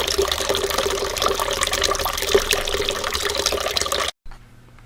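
Water rushes steadily from a water heater tank's drain outlet during a flush, a continuous splashing flow for about four seconds that cuts off abruptly, leaving a faint low hum.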